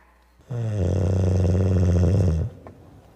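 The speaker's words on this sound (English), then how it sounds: "that grandmother has a mighty snore" A wolf lying in bed gives one long, mighty snore, a deep rumbling, buzzing drone that holds loud and close for about two seconds before cutting off, with no talk over it.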